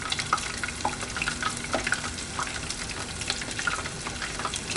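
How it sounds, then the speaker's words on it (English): Crab rangoons frying in hot oil, a dense, close crackling sizzle with scattered pops and bubbling, steady throughout with no talking. "Got the oil temp just right."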